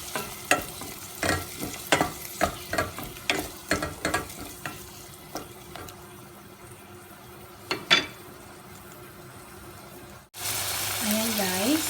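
Tomatoes cook in a pan for seafood pancit canton, with rhythmic stirring clatters and a soft sizzle, followed by a sudden louder burst of frying at the end.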